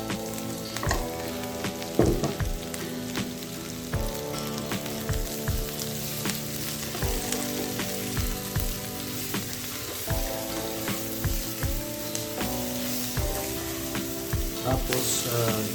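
Button mushrooms sizzle steadily in a pan with already-cooked garlic and onion, a close, continuous frying hiss with scattered clinks and scrapes of stirring throughout.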